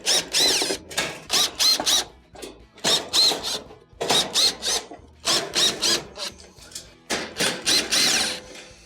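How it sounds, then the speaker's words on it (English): A power driver backs Phillips screws out of the back panel of a Samsung stove, in repeated short whirring bursts of about a second each with brief gaps between them, loud and close. "We'll go around the perimeter, remove all the Phillips screws that hold it on."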